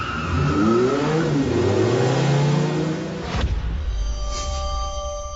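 A car engine revs hard and accelerates, loud and close, its pitch climbing and rising in waves for about three seconds before the roar cuts off to a quieter whir and hum.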